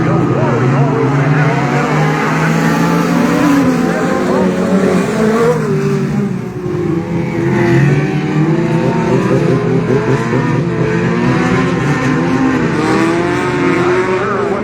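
Pack of race cars at Hattiesburg Speedway roaring up to speed together at the green flag of a feature race, a loud, dense, continuous engine drone with rising revs, close by, with voices talking over it.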